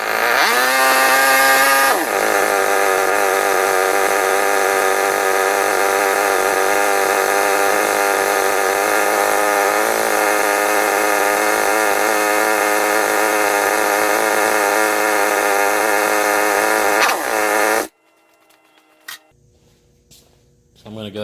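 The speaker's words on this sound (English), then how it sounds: "First thing I'm going to do, warm the motor up for a second and drain the oil out." A 2017 Kawasaki KX250F four-stroke dirt bike engine idles loudly and steadily close by as it warms up, then cuts off abruptly near the end, leaving quiet room noise.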